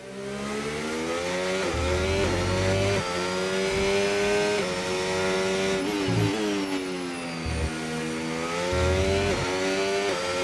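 Formula 1 race car engines in the F1 25 video game at the Spanish Grand Prix, high screaming engine notes rising through the gears and dropping on downshifts, one car loud and close with others passing nearby.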